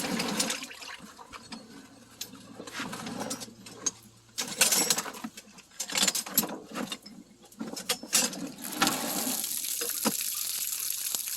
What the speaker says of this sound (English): there's water in there. I better dump that out first.